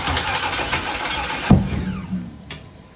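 A rebuilt LS V8 cranks and catches with a loud burst partway through, settling into a rough, loud idle close by after a steady churning lead-in.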